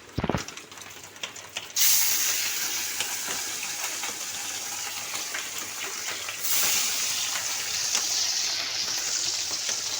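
Hilsa fish pieces sizzle in a hot pan for a mash, a steady loud frying hiss that starts after a brief quiet moment and swells louder partway through, with no talking.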